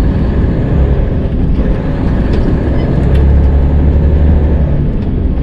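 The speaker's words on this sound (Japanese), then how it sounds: "あ、電車すぐそこにいるじゃん。" A train passing close by on a snowy route toward a Nagano ski area gives a steady, loud low rumble with no speech, holding continuously throughout.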